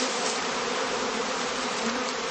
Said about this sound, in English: the bees again congregate around the queens inside it, consolidating once more into a cluster